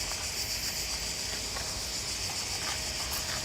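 A dense, continuous high-pitched chirring of crickets fills the background, steady and even, with no voices.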